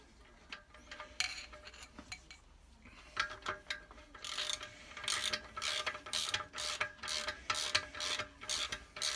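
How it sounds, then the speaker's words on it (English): A part on a Porsche 911 SC engine is pressed up with a screwdriver until it clicks into position, giving a run of sharp mechanical clicks and rattles, close and fairly quiet, with no talk. "just using a screwdriver, just lightly press it up till it clicks in position"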